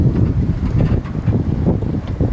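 Wind gusts buffet a sailboat under way on open water, making a loud, low roaring rush that pulses unevenly throughout, close to the microphone with no talking.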